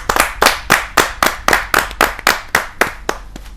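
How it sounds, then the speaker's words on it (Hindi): A single pair of hands claps about fourteen times in a quick, steady rhythm, loud and close, as an audience greets a poet at a Hindi kavi sammelan gathering. "आप जोरदार तालियों से उनका अभिनंदन कीजिए"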